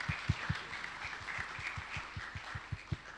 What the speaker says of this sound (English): Please join me in a round of applause to our excellent speakers.